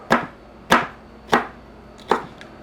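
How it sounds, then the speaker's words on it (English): A knife slices through a bell pepper on a cutting board for chicken fajitas, with four crisp, evenly spaced cuts, three in a steady rhythm and the last after a short pause, close and fairly loud with no talking. "And then we can just slice the pepper there."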